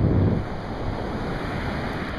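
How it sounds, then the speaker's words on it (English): Surf on a fishing beach rumbles and washes steadily, with wind buffeting the microphone and a slightly louder surge at the start. "So I don't trust those waves."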